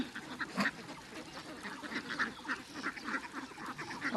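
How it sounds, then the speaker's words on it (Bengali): A flock of farm ducks near a pond quacking repeatedly in uneven bursts, fairly close and moderately loud, with no talking. "দেখুন এখানে কিন্তু প্রত্যেকটা হাঁসের স্বাস্থ্য অনেক ভালো"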